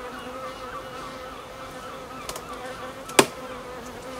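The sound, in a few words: bees buzzing around a honey super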